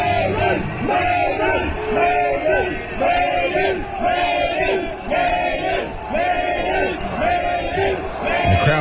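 A live concert crowd at a show chants loudly and steadily in a repeating rhythmic swell, many voices merging into a dense roar that fills the whole stretch.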